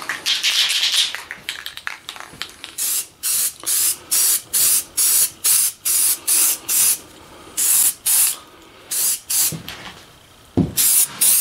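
Aerosol spray paint applying a black coat in a shop, a long series of short, evenly paced hissing bursts, close and loud, with brief pauses between passes.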